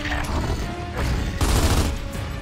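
Dense, overlapping gunfire and booming blasts in a Gears of War 2 co-op firefight, a continuous loud barrage with no clear gaps.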